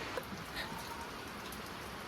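Steady rain falling, a soft, even hiss of drops that stays constant throughout, faint and distant with no voices.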